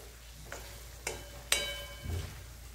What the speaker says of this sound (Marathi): वांगी टाकल्यानंतर थोडंसं परतून घ्यायचं.